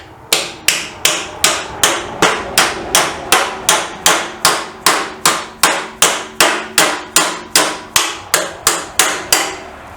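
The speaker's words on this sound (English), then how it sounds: "plastic hammer" A plastic hammer strikes a metal block in a workshop during motorcycle repair, about twenty-five sharp, evenly spaced blows in a steady rhythm, close and loud.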